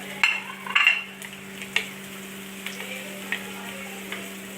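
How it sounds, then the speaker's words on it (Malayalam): Chopped shallots and curry leaves sautéing in oil in a pan: a quiet low sizzle with a few sharp clinks and taps of a spoon against the pan, under a steady low hum. "ഒരു 6-7 കഷ്ണം ചുവന്നുള്ളി ചെറുതായിട്ട് അരിഞ്ഞത് അത് ഇട്ടു വഴറ്റുക."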